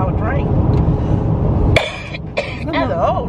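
A woman coughs a few times inside a car, short harsh bursts close to the microphone over a steady cabin rumble, with voices talking around the coughs.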